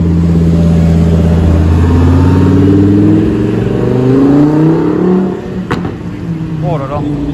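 A Lamborghini Huracán Performante Spider engine roars past in Monaco traffic, a loud, rising rev that swells and sweeps for several seconds before fading, with people talking over it.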